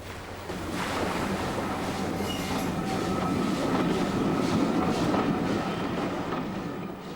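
A steam train on the Isle of Wight Steam Railway rolls past, a continuous broad rumble and rush of carriages lasting several seconds, fairly close and steady, with faint tonal squeals and no voices.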